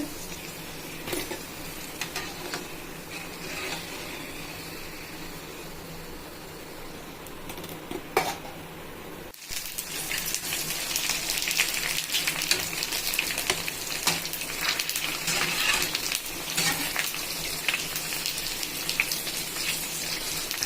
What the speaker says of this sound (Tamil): இதே மாதிரி எல்லாத்தையும் வறுத்து எடுத்துடலாம்